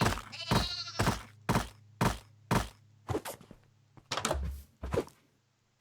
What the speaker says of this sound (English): the sheep's gone mad. The sheeps have gone crazy.